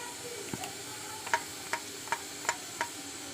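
Green chili, onion and spice mix fry in a pan with a soft, steady sizzle, broken by a series of light, evenly spaced scraping clicks as the mixture is stirred close by.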